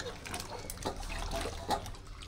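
Raw mangoes are washed in water, with soft splashing and trickling close by at low volume over a quiet background.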